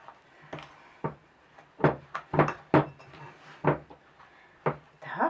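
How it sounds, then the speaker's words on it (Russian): A spoon knocks and scrapes against a bowl in irregular bursts, thick shortbread cookie dough with peanuts being stirred up close with short pauses between strokes. "Сейчас маленько смешаем ложкой, а потом все будем мешать руками."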